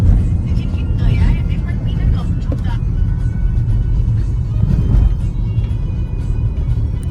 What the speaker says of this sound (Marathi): फुल ट्रॅफिक लागली आहे लोणावळ्याजवळ